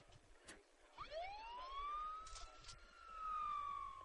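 A single siren wails in the 1986 film Night of the Creeps, rising in pitch and then holding a long, sustained tone that sounds somewhat distant and fairly faint, with no talking.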